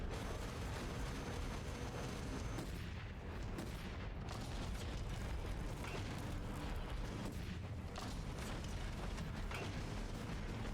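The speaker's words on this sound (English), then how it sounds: "Watch out for his grenades." Grenade blasts and explosive shell fire in the co-op video game Iron Brigade, a dense, continuous barrage of booming, rumbling detonations filling the whole stretch with no pause.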